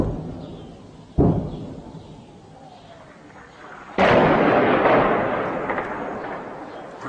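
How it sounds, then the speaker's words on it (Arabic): Artillery shelling strikes Khalidiya in Homs, two heavy booming blasts, the second louder and followed by a long rumbling roar that lingers, heard from a distance over faint background noise. "أمس الخالدية قصف عنيف عليها منذ الصباح الباكر"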